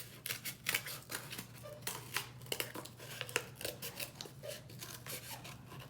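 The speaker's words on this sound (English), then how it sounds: "I am going to cut that out." Scissors snip through paper to cut out a craft horn base, a quick run of crisp, close cuts in an uneven rhythm, fairly quiet, with no one talking.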